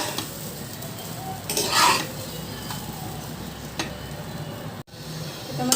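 Rice is fried and stirred in a pan. A spatula scrapes and clinks against the metal over a low, faint sizzle, with a brief louder scrape near the start.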